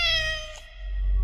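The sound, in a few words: cat meowing in unreleased horror video game footage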